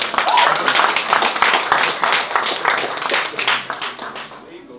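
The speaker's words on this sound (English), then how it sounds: "Let's give him a clap." Audience at a 2015 wedding ceremony claps steadily for several seconds, a dense, continuous patter of many hands that holds fairly loud before tapering off near the end.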